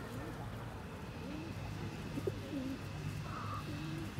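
Pigeons cooing softly at moderate distance in an outdoor spot, low repeated calls over steady background noise, with a faint higher bird call near the end.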